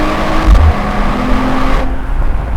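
A 2025 Mercedes-AMG CLE 53 convertible driving, with a loud, steady engine drone and road rumble heard from inside the cabin, and a brief low thump near the start.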